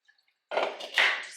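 Tap water runs over fresh kale from a farmer's market, a close, steady rinsing splash lasting about a second after a few faint drips, with a brief surge partway through.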